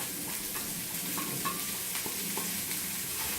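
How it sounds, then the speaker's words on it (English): Cabbage fries in coconut oil in a hot skillet, giving a steady, close sizzle and crackle that holds evenly throughout with no voices. "in the skillet, it's warmed up, I am going to add the cabbage"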